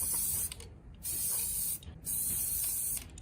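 Aerosol spray paint can hissing out pink paint in three steady bursts of roughly a second each, separated by short pauses, close and fairly loud.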